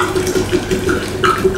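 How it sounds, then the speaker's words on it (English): Wine from a 750 ml bottle pouring steadily into a jar while making herbal wine, a continuous splashing liquid stream heard up close with no talk. "Just pour the wine in, and it's basically done."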